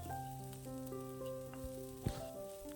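Onions sauté and sizzle in a pan for a vegetable egg omelette, a soft, steady frying hiss close by with a few faint spoon clicks and no talk.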